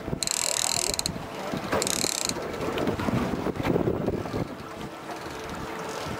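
A fishing reel's drag ratchets in two rapid bursts of clicking while trolling for mahi-mahi off a boat, over steady wind buffeting and engine and water noise.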